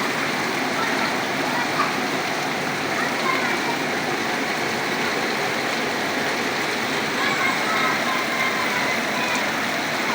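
Rain pours onto a street in Nabinagar, Mohammadpur, after intense heat, a dense, even hiss of falling water that holds steady throughout with a rushing, splashing texture.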